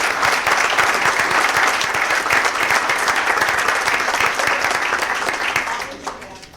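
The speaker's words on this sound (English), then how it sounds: "can we have a round of applause for this wonderful team?" A crowd at a Dunkirk, New York Common Council meeting applauds a high school bowling team: steady, dense clapping that holds loud and even for several seconds, then tapers off at the end.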